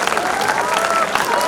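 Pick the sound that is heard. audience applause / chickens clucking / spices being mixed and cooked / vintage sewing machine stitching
audience applause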